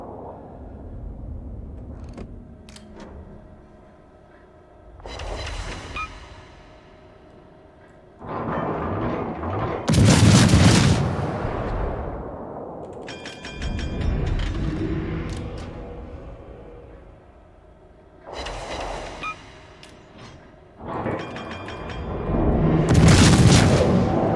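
Battleship main-gun salvos in the naval combat game World of Warships: several loud, deep booming blasts roughly every five seconds, each with a rolling low rumble and crackle that fades before the next volley.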